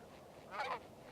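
Geese circling overhead honk in a brief cluster of calls that rises and fades within a second, heard from a moderate distance over a quiet outdoor background.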